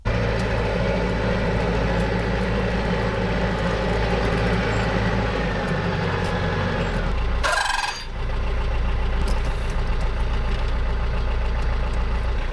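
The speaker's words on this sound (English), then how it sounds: "let's get this tractor to the shop" A tractor engine idles throughout with a low rumbling drone, briefly dipping for a moment midway before resuming its constant running.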